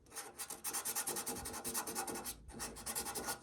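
Sandpaper scuffs a low spot in cured auto body filler, giving a steady, close rasping rub in repeated strokes that shift direction, with a brief pause near the end before scrubbing resumes.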